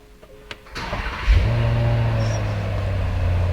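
A 2023 Range Rover Vogue SUV engine cranks after a few faint clicks, catches with a sudden roar, then settles into a steady, close idle rumble.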